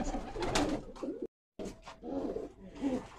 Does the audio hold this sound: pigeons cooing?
yes